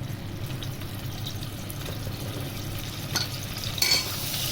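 Garlic-ginger paste frying in a pan with browned onions for chicken korma, a steady close sizzle with scraping stirs and a few brighter clinks of a spoon near the end.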